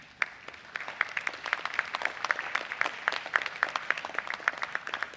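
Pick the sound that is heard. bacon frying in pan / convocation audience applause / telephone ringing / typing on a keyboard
convocation audience applause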